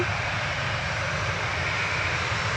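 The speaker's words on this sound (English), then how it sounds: "Aer Lingus starting a bank to the right" Steady, loud drone of an Aer Lingus airliner banking right near Manchester Airport, a continuous engine roar with no breaks or talk.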